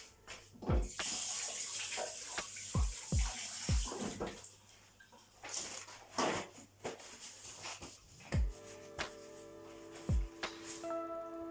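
Kitchen tap running steadily while a hand is washed during omelette cooking, with intermittent splashes and knocks as the hand moves under the water, close and moderately quiet.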